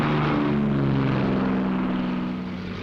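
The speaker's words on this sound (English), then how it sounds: "timed to the escort schedule, the P-38s get underway" WWII P-38 fighter planes run their engines as they get underway, a loud steady propeller drone with a low throbbing hum that eases slightly at the end.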